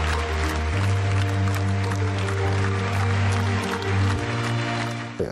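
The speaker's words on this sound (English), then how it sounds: "Each performance received a well-deserved applause." Audience applause at an Astana Ballet performance, a dense, steady wash of clapping lasting several seconds, with sustained low tones humming beneath it.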